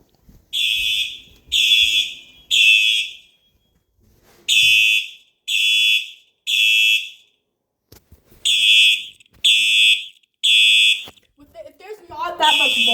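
A fire alarm system horn sounds in repeated loud, evenly spaced bursts, three then three then three with short pauses between groups, ending with faint handling noise; no voices are heard.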